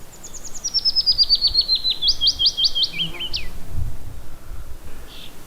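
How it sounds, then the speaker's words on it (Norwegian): Small birds sing at a campsite in East Finnmark during high summer, with a clear run of quick repeated chirping notes and trills over a steady outdoor background hiss, fairly close and alone without speech. "Fuglene synger, og insektene surrer omkring."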